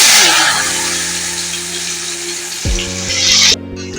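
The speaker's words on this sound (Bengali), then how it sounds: "এবার দিয়ে দেবো কোঁড়ায় ওই তেলের মধ্যেই আমি" Potatoes frying in hot oil in a wok give a steady, close hiss and sizzle that holds throughout, with low tonal hum and clatter underneath, briefly rising near the end before cutting off abruptly.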